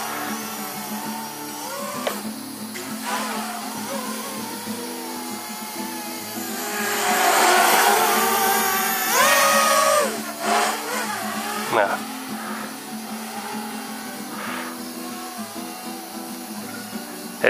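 Cheerson CX-91B quadcopter drone flying and flipping, a steady buzzing whine that swells and shifts in pitch with throttle, with a voice talking over it.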